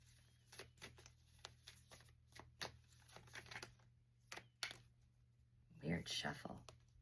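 Quick papery riffling and soft taps of tarot cards, close by, in short bursts with a louder flurry near the end; a voice murmurs faintly underneath.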